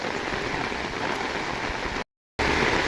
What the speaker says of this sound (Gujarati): એટલો જોરદાર વરસાદ આવે ને